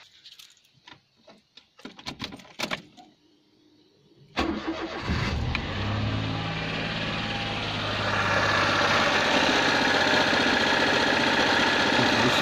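A Perodua Nippa engine cranks and catches after some clicks and clatter, then settles into a steady, close idle with the new alternator belt spinning, growing slightly louder toward the end.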